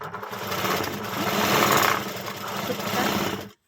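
A sewing machine stitches a blouse front in a steady, continuous whir that runs loud and close for over three seconds, then stops abruptly.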